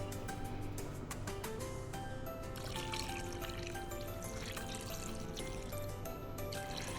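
Water pours steadily into an Instant Pot holding turkey bones, herbs and seasonings, a continuous splashing trickle with a dense, even hiss throughout.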